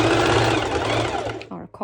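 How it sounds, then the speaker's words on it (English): A sewing machine runs a straight stitch through layered swimsuit fabric, a loud close continuous mechanical whir that slows and stops with a couple of short bursts at the end. "I actually like to do a straight stitch first, just one straight stitch"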